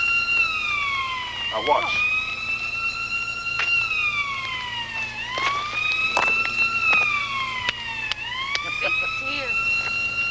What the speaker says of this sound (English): I can't hear you for the siren.